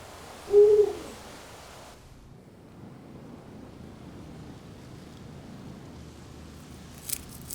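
A Eurasian eagle-owl gives a single low, resonant hoot near the start, standing out clearly over quiet night wind and distant surf-like background noise before fading into ambient hush.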